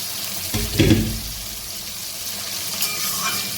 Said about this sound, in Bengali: সামান্য নেড়ে ফেড়ে